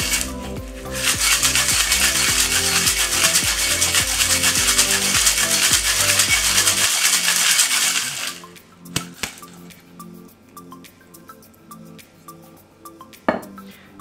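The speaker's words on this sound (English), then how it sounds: "And give it a nice whip shake for about 5 to 8 seconds." Cocktail shaker packed with ice, whipped hard for several seconds as a loud, continuous rattling churn, then stopping abruptly and followed by a few scattered clinks and knocks.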